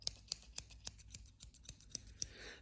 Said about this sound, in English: And I've also got my bird scissors.